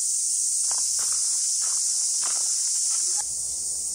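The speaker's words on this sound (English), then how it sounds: "Listen to those cicadas." Cicadas along the Queen Charlotte Track in New Zealand's Marlborough Sounds, a loud, steady, high-pitched buzzing drone throughout, with soft footsteps on a trail underneath.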